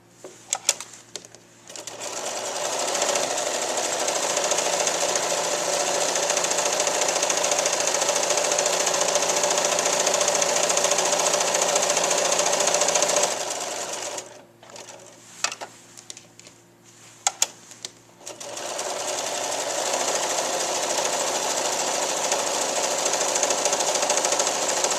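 A sewing machine zigzags rattail cord onto a quilt's binding edge, a loud, fast, even rattle running for long stretches, broken by a pause filled with clicks and handling before stitching resumes.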